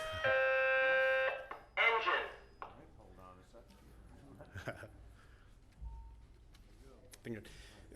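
A loud electronic alarm beeps in two short bursts near the start, then someone talks over quieter background noise.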